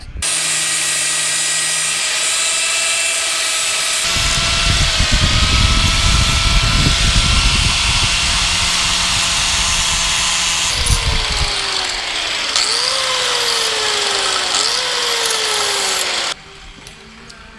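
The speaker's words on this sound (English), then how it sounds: "let me get my mask on and then it's cutting time." A power tool cuts an inch-long piece of scrap metal while fabricating a 1/14-scale lowboy semi trailer, giving a loud, steady motor whine with rising and falling pitch and grinding bursts, running close for about sixteen seconds before cutting off.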